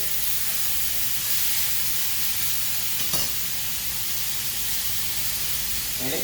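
Ribeye and filet steaks sizzle in a hot pan with a steady, close hiss that holds for the whole stretch, with one brief louder crackle midway.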